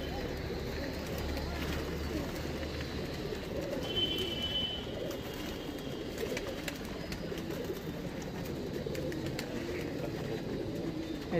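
Madrasi pigeons coo softly amid a steady outdoor background hum, the calls low and indistinct rather than close and prominent.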